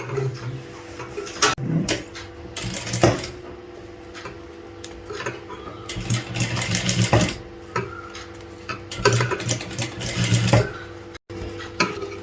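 A sewing machine stitches a sleeve in short, irregular bursts of ticking needle strokes separated by pauses and handling noises, fairly close and loud.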